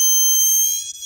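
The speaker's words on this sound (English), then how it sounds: "If it's changing colors, then the horn is changing the pitch of its sound." A Snap Circuits toy horn gives a shrill, steady electronic tone that is brief and loud, then falls away toward the end.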